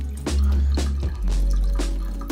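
Water runs into a pot of rice in a home kitchen, a loud close gush with low sloshing and several sharp splashy bursts and drips, without any voices.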